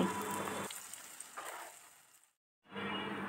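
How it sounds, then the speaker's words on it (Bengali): Potato cheese balls deep-fry in hot oil with a steady, hissing sizzle like light rain. A brief silent gap interrupts it before the frying returns at the same level. "এইভাবেই আমি একটু সময় নিয়ে এই বলগুলোকে সুন্দর একটা কালার আসা পর্যন্ত ভেজে নিচ্ছি"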